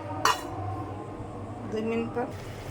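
A metal lid set onto a cooking pot of rohu fish and potato curry on the stove, one sharp clink followed by a brief rattling scrape of metal on metal a moment later, with faint kitchen background.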